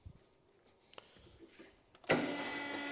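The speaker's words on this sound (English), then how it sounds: "you'd struggle to hear me with this motor going, putting the ramp up" A motorized vehicle lift ramp raised during Revo upgrade work on an ST250 motorcycle, its electric motor starting abruptly and then running as a steady, loud whine and hum after a few quiet workshop clicks.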